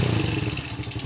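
A Suzuki Smash motorcycle engine revs steadily up close, a loud continuous mid-pitched roar with a rattling, clattering edge throughout, the rough sound of a knock inside the engine.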